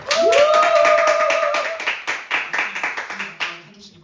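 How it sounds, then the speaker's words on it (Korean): Clapping from a youth church audience, a burst of rhythmic hand claps rising after a short vocal tone, then tapering into scattered separate claps toward the end. "박수 한번 주세요."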